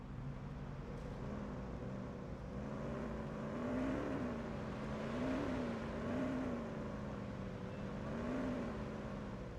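A steady video-game patrol car engine drone with a gently rising and falling hum, continuous throughout with no voices.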